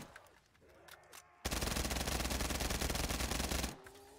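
Nail gun in Black Ops 3 Zombies unleashing a dense, rapid stream of shots for about two seconds after quieter game sounds, then cutting off abruptly.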